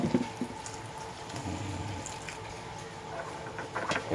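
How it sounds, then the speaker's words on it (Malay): Hot water poured over rice vermicelli to blanch it in a home kitchen, a steady splashing, gurgling stream with a few sharper splashes near the start and end, no talking. "Lepas tu kita tuang dengan air panas."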